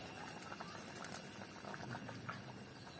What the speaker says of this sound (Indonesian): Oh, ini udah mulai airnya mendidih.